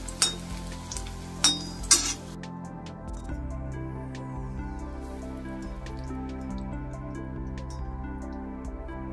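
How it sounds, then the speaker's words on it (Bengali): Coriander leaf fritters (bora) fry in hot oil with a steady, close sizzle, after a few sharp clinks at the start. "এবারে ভাজছি ধনে পাতার বড়া।"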